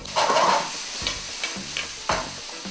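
Mapo tofu is stir-fried in a pan, making a moderate sizzle broken up by several distinct scraping strokes of a spatula against the pan, close and without talk.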